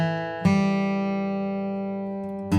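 Slower acoustic guitar G run flatpicking lick: a few picked notes, each ringing out and sustaining for a long time before the next one is struck, clear and close with no talking.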